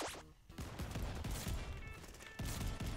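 Rapid bursts of hip-fired weapon fire in Call of Duty: Vanguard multiplayer, dense cracking shots crowding together at moderate volume with no voice over them.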